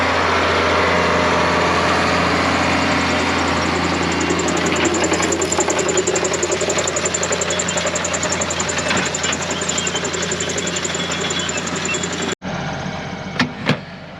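A Case IH 7120 Magnum tractor engine runs steadily nearby with a low, knocking diesel rumble, then cuts off abruptly near the end, followed by a few faint clunks.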